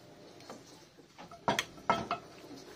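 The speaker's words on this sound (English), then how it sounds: "Okay, can I do the mixing? I will do the mixing." Chicken pasta being stirred together in a pan, with a few soft scrapes and clinks of a utensil against the cookware, two sharper knocks standing out over quiet kitchen background.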